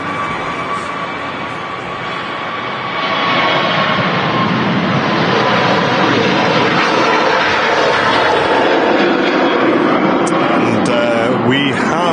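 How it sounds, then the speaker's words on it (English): Jet2 Airbus A380 bound for Larnaca taking off at Manchester Airport in the evening, a broad, roaring engine rumble that swells after a few seconds and holds steady and loud, with commentary voices talking over it. "This Jet2 A380 heading up to Larnaca, kicking the show off this evening."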